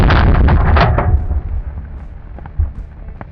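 An AK-50 rifle fires downrange, a booming report with a dense blast that rolls off into a long fading echo, followed by a few faint distant thuds.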